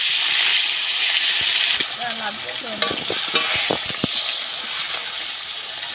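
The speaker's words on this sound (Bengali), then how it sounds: "উল্টো পাল্টে ভালো করে মাছগুলোকে ভেজে নেব।" Pomfret fish sizzle and hiss in hot oil in a pan, a broad steady frying noise close by, with a few scraping stirs and brief talking partway through.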